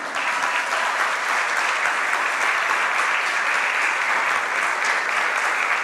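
A church congregation applauds in a dense, even roar of clapping that holds steady from start to finish, close and loud, with no voices standing out.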